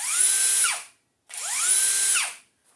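A cheap AliExpress Makita DDF487 cordless drill runs twice, each time winding up gradually to a high whine, holding, then spinning down, with a short pause between runs and no talking.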